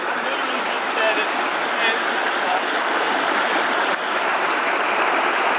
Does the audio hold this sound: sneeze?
no